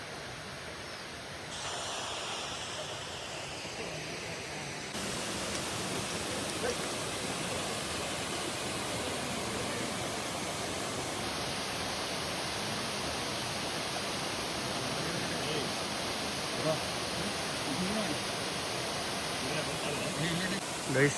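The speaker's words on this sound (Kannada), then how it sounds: "ಈ ಕಡೆ ನೀರು ಹರ್ಕೊಂಡು" Water rushes along a stream beside a waterfall in Coorg, a steady, dense roar of flowing water that grows louder and fuller after the first few seconds and continues unbroken to the end.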